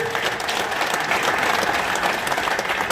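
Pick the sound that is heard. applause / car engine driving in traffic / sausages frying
applause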